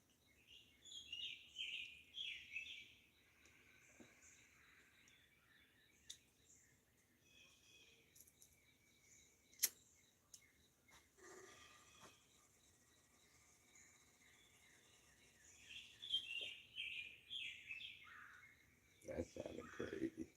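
Wild birds calling in the Ozark hills at Bull Shoals Lake near Branson, Missouri, at morning: bursts of chirpy, high calls at the start and near the end, with quieter chirps and insect-like trills between and faint background sounds.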